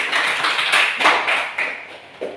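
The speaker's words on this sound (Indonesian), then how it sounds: "Beri tepuk tangan kepada kelompok putri." A classroom claps for a girls' discussion group, a short burst of sparse, uneven hand claps close by that fades out over about two seconds.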